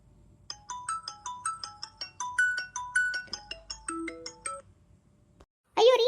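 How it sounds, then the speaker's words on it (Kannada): A mobile phone ringtone plays a bright, fast electronic melody of repeating beeping notes for about five seconds, then a voice begins speaking at the end. "ಅಯ್ಯೋ ರೀ ಫೋನ್ ಬಂತು"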